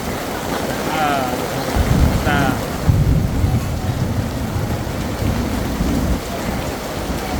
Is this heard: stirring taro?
no